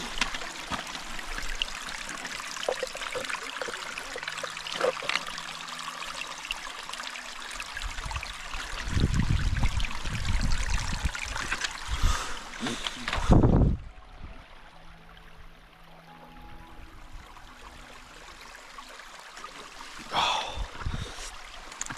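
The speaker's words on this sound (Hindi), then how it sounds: "सो फ्लोइंग वाटर का इंतज़ार था काफ़ी देर से, तो हमें एक छोटी सी स्ट्रीम मिली है" A small, very cold mountain stream on a snowy Himalayan trek trickles and splashes steadily close by as a bottle of energy drink is topped up from it, with a louder gush midway and a few brief handling knocks.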